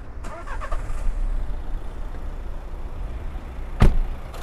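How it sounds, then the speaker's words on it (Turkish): A Renault Megane 4 with a 1.5 diesel engine rumbles low and steady at idle nearby, with a sharp click near the end and no talking. "Yani çalıştıralım isterseniz, biz aracın sesine bakalım. Motor sesine bakalım."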